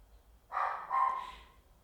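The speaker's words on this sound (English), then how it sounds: "Which dog is that? Bark again." A single dog gives one short, fairly faint double bark in a quiet indoor room, two quick yaps close together and then silence.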